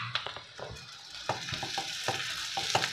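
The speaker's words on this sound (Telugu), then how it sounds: "ఇది మొత్తం మిక్స్ అయ్యేలా కలుపుకోవాలి, పొటాటో ఇంకా ఆనియన్." Potato and onion samosa filling is stirred and mixed in a pan, with repeated scraping strokes over a soft frying sizzle, fairly close and steady, with no one talking.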